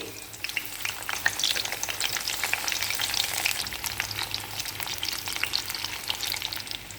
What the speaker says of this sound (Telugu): ఈ చక్రాలు చక్కగా ఈ ఊళ్ళో వేస్తున్నానండి